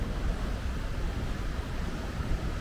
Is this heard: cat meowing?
no